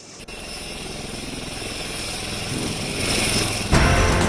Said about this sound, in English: Say namaste to the light combat helicopter.